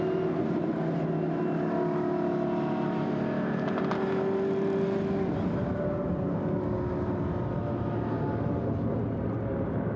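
GT race cars roll slowly at about 80 km/h under a full course yellow at Paul Ricard, a steady, moderately loud engine drone with tonal hum, continuous and without voices.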